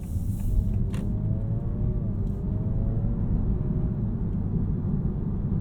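The hybrid engine of a 2026 Honda Prelude runs as a smooth, steady low hum and rumble, heard from inside the car at a moderate level, with no speech.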